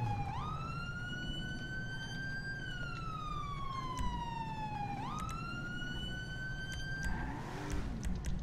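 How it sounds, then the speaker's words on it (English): A wailing police siren in a roleplay video game rises and falls in long sweeps over a low engine rumble, loud and continuous. "Yes, siren check."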